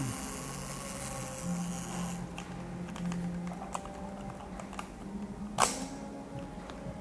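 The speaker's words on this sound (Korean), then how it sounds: "셔터도 문제없이 작동합니다." A single sharp mechanical shutter snap from a Leica IIIf film camera near the end, following soft clicks and handling noise in a quiet room.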